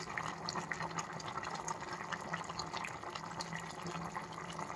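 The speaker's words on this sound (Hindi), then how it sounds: "वाओ इतना उबल रहा है।" Apatani pike, a traditional side dish from Ziro, Arunachal Pradesh, boiling in a pot: a steady, faint bubbling and gurgling with scattered small pops and drips, continuous throughout.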